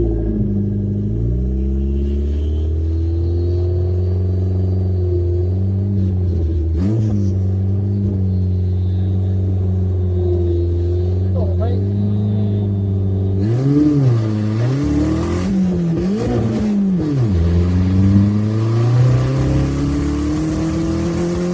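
An AWD Vauxhall Nova race car revs and accelerates hard on a drag run, engine climbing steadily through the revs with loud, close, droning exhaust, then a rougher surging section with gear changes toward the end.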